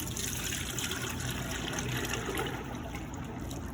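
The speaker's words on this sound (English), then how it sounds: "I take this big bucket and I just pour some off into here." Liquid lemongrass soap poured from a big bucket into a container, a steady close trickle and splash of thick liquid running continuously without pause.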